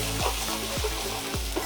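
Chopped onion, ginger and garlic sizzle in hot oil, a steady close crackle with a spatula scraping and stirring the pan about three times in quick rhythm.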